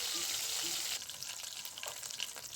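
Dried Bombay duck fish fry in hot oil in a pan, a close, steady crackling sizzle that runs throughout, with a few stirring scrapes and the hiss settling slightly partway through.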